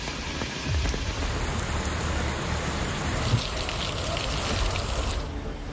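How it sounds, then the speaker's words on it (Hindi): Heavy monsoon rain pours down in Noida, a dense, steady, loud hiss of rainfall with occasional louder splashes and no voices. "मानसून जब पलट कर आया तो पहली ही बारिश में नोएडा को पानी की अच्छी सौगात दे गए"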